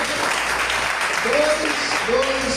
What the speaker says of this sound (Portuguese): vamos aplaudir Deus pela vida de vocês aí